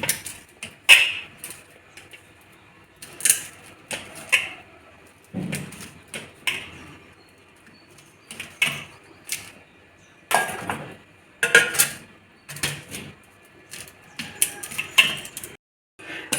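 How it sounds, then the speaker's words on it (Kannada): A knife cuts a block of paneer into pieces on a board, giving a run of sharp, irregular taps and thuds spread through the stretch with short quiet gaps between them. "ಈ ಪನ್ನೀರ್ನ ನಿಮಗೆ ಯಾವ ಶೇಪ್ ಬೇಕೋ ಆ ಶೇಪಲ್ಲಿ ಕಟ್ ಮಾಡಿಕೊಂಡ್ರೆ ಆಗುತ್ತೆ"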